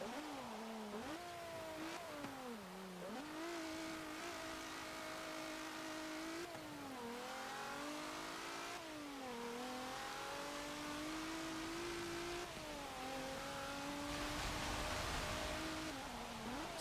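A 2019 Hyundai Veloster N in the Forza Motorsport 7 racing game accelerates hard with a steady, loud engine note. The revs climb and drop repeatedly as the car shifts through the gears, and no one speaks.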